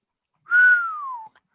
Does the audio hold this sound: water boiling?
no